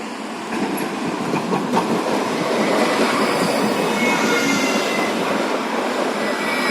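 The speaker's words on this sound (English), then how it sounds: "So let's take a ride on one of the new trams," A new tram rolling along the Bratislava tramway, heard from inside as a loud, steady rumble of wheels on rails with faint squeals and clicks, no voices.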